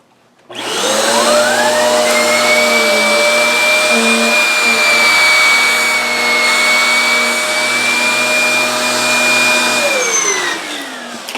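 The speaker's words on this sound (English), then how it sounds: "if I could pull out this hose here, flip it into hose mode, and turn it on." An Eureka Airspeed One vacuum cleaner in hose mode starts up, runs as a loud, steady whine with a sustained motor pitch for about nine seconds, then winds down and falls silent.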